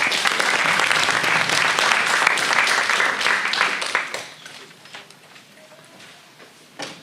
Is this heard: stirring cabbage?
no